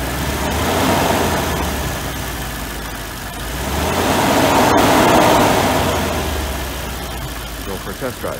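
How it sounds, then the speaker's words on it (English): Mercedes V8 engine running on a test drive with a light rattle from a chunk of loose catalyst inside the rear catalytic converter, beneath a steady mid-pitched engine drone that swells and eases. "That little bit of a rattle you hear is a chunk of catalyst in my catalytic converter, the rear one"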